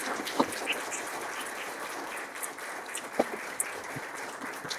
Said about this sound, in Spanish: Un fuerte aplauso para Alfredo Pérez